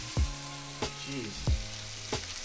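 Steak searing in hot oil in a pan, a close, steady sizzle broken by several sharp bursts of spitting and crackling, heard alone.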